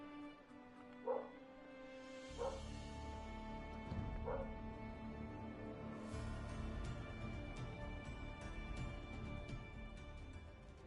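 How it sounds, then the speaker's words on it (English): A dog barks in a garden, likely at foxes: a few short yips and barks at a distance, muffled indoors under a steady hum of game music, with a brief whimper. "my dog is just barking, probably at foxes in the garden"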